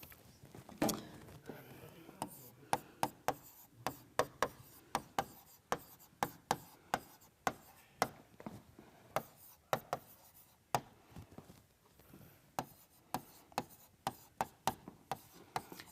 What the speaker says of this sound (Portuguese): eu vou escrever aqui no quadro